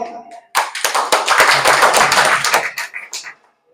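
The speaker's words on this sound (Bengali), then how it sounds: "সবার জন্য জোরদার করতালি" An audience at a DXN marketing-plan meeting breaks into a burst of hand clapping, close and lively for about three seconds before fading out, with no talk over it.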